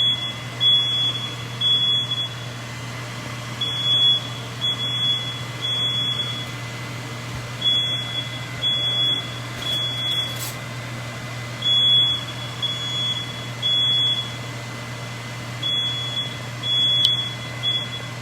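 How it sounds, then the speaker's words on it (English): A kitchen smoke alarm chirps in repeated short bursts of high beeps while short ribs cook, the pattern recurring at irregular intervals over a steady low hum of an appliance, no talk. "You get fire alarm music when you visit the chef."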